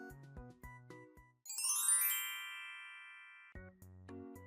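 A short phone notification chime made of bright ding-like tones, with a melodic jingle before and after a sustained ringing tone, alone and clear.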